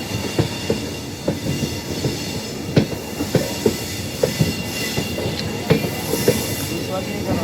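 A passenger train runs along the rails with a steady rumble and a string of sharp, irregular clacks and knocks from the wheels over the track joints, heard from inside the coach, loud and continuous.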